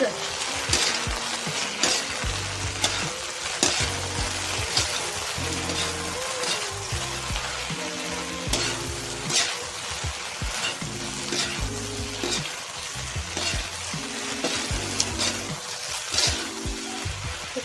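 Okra (bhindi) frying in a pan with coriander powder and salt while being stirred: steady sizzle with scraping and occasional clinks of a utensil, close and continuous.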